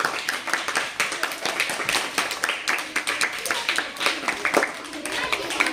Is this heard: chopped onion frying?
no